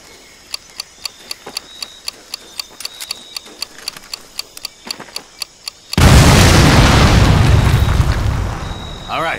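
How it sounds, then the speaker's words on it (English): Demolition charge detonating on an artillery piece in Medal of Honor: Pacific Assault: a steady run of sharp ticks gives way to a sudden loud, sustained roaring blast that fills the remaining seconds. "Tommy, get a demo charge on that artillery and let's keep moving."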